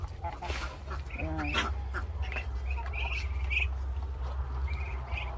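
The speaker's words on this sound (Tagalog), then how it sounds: "Ito yung naglilimlim na pato" Duck quacks from a brooding duck sitting on eggs, several short calls scattered over a steady low hum, with a voice speaking briefly nearby.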